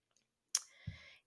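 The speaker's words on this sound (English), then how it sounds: "just by clicking on this red delete button" A single sharp computer mouse click, close and crisp in near silence, followed by a faint short trailing hiss and a soft low thump.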